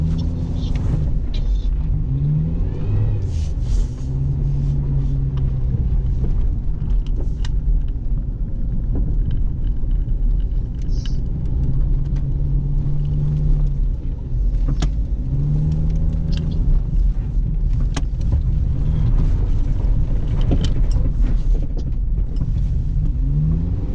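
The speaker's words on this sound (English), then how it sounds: "Let's just drift a little bit." A Honda Civic drifts through snow, its engine droning loud and steady throughout with revving swells and low rumble, no talk over it.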